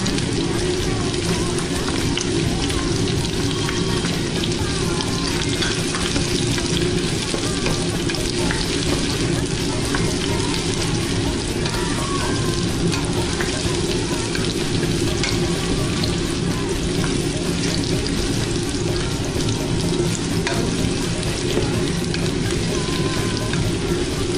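Garlic sautés in a pan, added after onion, with a steady, fairly loud frying hiss and stirring scrapes that run continuously for the whole stretch, with faint voices in the background.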